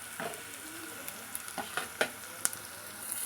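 Sliced ridge gourd sizzles softly in a pan, with a handful of scattered scraping and clinking strokes from stirring over a low steady frying hiss.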